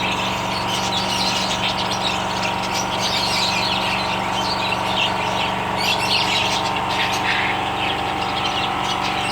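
A flock of parrots chirps and squawks overhead in the dark on a hot evening, a dense continuous chatter of overlapping calls over a steady low hum of background noise, with no talk.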